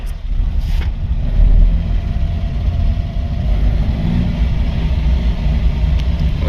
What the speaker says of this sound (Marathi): बघा गाडी आपोआप चालते.